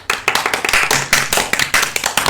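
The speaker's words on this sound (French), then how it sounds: "On peut l'applaudir." A small audience at a youth radio show claps for a quiz winner, giving a close burst of uneven, rapid handclaps that lasts about two seconds with no talking.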